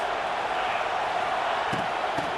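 Stadium crowd noise in the College Football 26 video game, a continuous, even wash of massed voices holding at a steady level throughout, with a couple of faint thumps late on.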